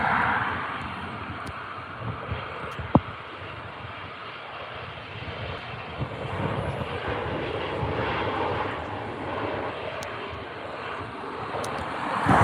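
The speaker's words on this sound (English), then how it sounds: "Jet2 737-800 ready for departure." Jet2 Boeing 737-800 departing Newcastle airport, a steady, distant roar of jet engines that builds slightly toward the end, with wind rumble and a few faint clicks.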